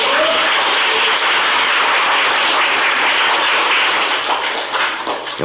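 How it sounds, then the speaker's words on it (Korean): An audience at a seminar applauds a lawmaker in a steady, dense wash of clapping that stays loud and even throughout, with no voices heard. "여러분 큰 박수로 환영해 주시길 바랍니다"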